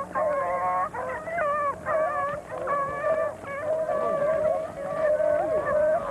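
Pack of beagle hounds baying on a rabbit's trail at a field trial, a steady chorus of loud, overlapping howls and yelping bays ringing out continuously, close and far voices mixed together.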